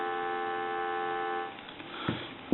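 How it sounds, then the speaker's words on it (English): Steady telephone dial tone from a repaired A&E rotary desk phone, a continuous stacked hum holding evenly before cutting off, followed by faint handling clicks and a short thump at the end. "Give you some dial tone."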